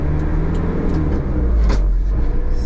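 Daihatsu Terios engine pulling away in first gear, a loud close rumble that builds steadily as the small SUV accelerates, with light road and cabin noise alongside.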